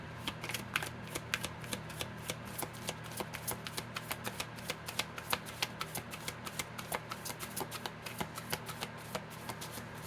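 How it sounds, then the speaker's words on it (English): Tarot cards shuffled by hand in a steady run of crisp, close riffling flicks, repeating quickly throughout with no voices over them. "Let's get a couple more cards."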